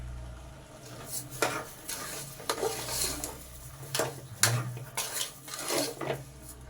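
Grated carrots and sugar being stirred in a pot with a spoon: repeated knocks and scrapes against the metal ring out at an irregular pace over a low background hum.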